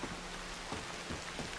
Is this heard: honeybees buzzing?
no